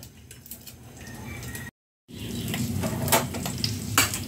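Dried fish (daing) frying in a pan, a steady close sizzle and crackle with scraping and stirring, broken by a brief silent gap.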